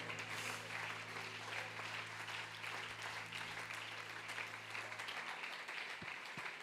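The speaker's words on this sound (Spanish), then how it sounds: "Van seguido un aplauso fuerte a nuestro Señor, Dios Todopoderoso." Congregation applauding during a church worship service, a faint, distant, steady patter of many hands clapping over a low hum.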